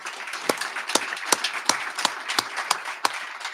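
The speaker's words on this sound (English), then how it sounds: "let's give them a round of applause in absentia" Sparse, scattered clapping from a small audience at a speaker series event, a few distinct hand claps spaced irregularly rather than full applause.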